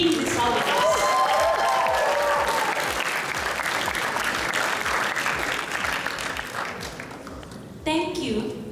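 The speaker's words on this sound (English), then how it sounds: "So can we have another round of applause to IAVE and IAVE Conference for bringing this out with us?" A conference audience at an IAVE event breaks into loud, sustained applause, many hands clapping densely for several seconds before tapering off, with a voice briefly returning at the end.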